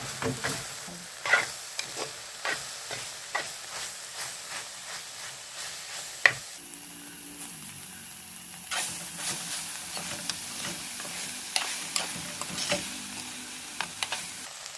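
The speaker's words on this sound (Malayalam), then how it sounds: "വീണ്ടും നമുക്കൊന്നുകൂടെ ഇതൊന്ന് ഇളക്കി കൊടുക്കാം." Ivy gourd peera being stirred in a pan, a steady soft sizzle broken by repeated scraping spoon strokes in an uneven rhythm, close and alone with no voices.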